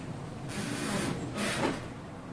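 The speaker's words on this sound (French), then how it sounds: "Et là il y a une tempête dehors. Donc vous entendez ma fenêtre qui grince." A window creaks and rattles in two rushing bursts of gusting wind during a storm, a groaning squeak rising near the end, heard close indoors.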